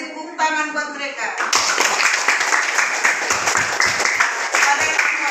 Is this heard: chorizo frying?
no